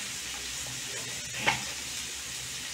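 Bottle gourd seeds frying with a pinch of turmeric in a pan make a steady, even sizzle with one brief clink or stir midway, no voices.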